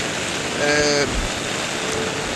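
Heavy rain pouring during a cyclone at Mullaitivu on the coast, a dense steady roar of rainfall filling the whole clip, with a brief tonal whine rising over it midway.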